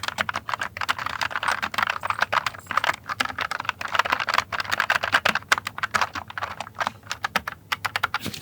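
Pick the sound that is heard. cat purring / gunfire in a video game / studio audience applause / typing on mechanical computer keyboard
typing on mechanical computer keyboard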